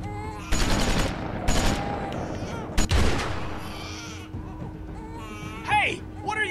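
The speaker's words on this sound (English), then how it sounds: "Just shoot over Toad's woods" Gunfire in The Walking Dead: Season 2 video game, a few sharp bursts spread across the clip, with game voices talking and shouting around them.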